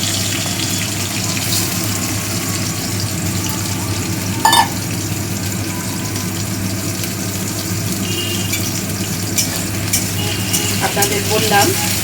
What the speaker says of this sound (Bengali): এবার আমি কড়াইয়ে আলুটা দিয়ে দিচ্ছি তেল গরম হয়ে গেছে